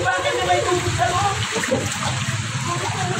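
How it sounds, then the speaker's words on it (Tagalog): Floodwater sloshing and splashing inside a flooded house, a steady churning wash of water throughout, with voices talking over it. "Baha hanggang sa loob."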